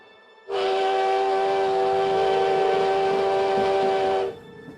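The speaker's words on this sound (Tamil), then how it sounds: "அந்த ரயில் ஒரு விசில் சத்தத்தை கொடுத்துட்டு மெதுவாக கிளம்ப ஆரம்பிச்சிருந்தது" A loud, steady departing passenger train whistle blasts for about four seconds with a rich, piercing tone, then cuts off abruptly, leaving low rumbling noise.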